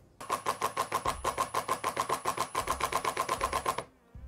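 A Ryobi R18IDBL 18V impact driver on first speed, with a T25 bit, drives 5x80 screws in a fast, even train of close, sharp impact clatters lasting several seconds, then stops abruptly.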